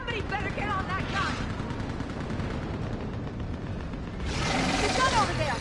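A mounted gun fires during a Mass Effect 3 battle, with bursts of gunfire beneath shouting voices and the firing growing louder near the end.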